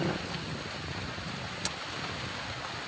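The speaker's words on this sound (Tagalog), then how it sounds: "Lakas yung hangin." Steady broadband wind rushing and buffeting the microphone outdoors at a hunting spot, with a continuous low rumble and one brief sharp click midway.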